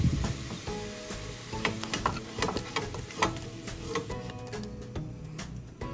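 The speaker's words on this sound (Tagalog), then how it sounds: "I-fry lang natin yan ng mga 8 minutes." Coconut chicken sizzles as it fries in oil, a dense continuous crackle with scattered pops and clicks of utensils, loud and close with no talking.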